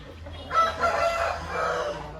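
A young rooster crows once, near and fairly loud, in a single drawn-out call lasting over a second against a quiet background hum.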